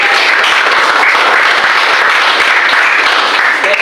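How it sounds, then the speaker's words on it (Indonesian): Loud, dense applause from a classroom audience fills the whole stretch without pause, many hands clapping at once after a group presentation. "tepuk tangan untuk kelompok."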